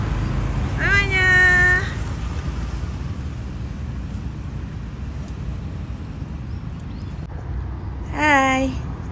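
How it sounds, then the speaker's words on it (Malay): A neighbour's cat meows twice, a drawn-out cry near the start and another about seven seconds later, over a low steady background hum. "Kucing jiran Nara comelnya."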